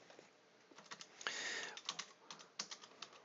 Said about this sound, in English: we're going to type compile